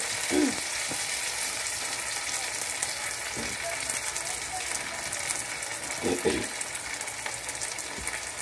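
Spices fry in hot oil in a pan with a continuous crackling sizzle, broken by a few dull knocks from stirring.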